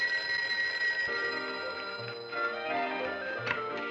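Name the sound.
telephone ringing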